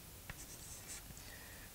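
Chalk or pen writing equations on a board during a rotary-wing flight dynamics lecture, a quiet, brief scratchy stroke with faint tapping, distant and low against room hiss, no talking.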